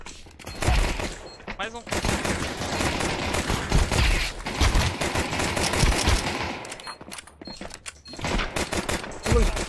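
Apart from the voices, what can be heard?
gunfire in a shooter video game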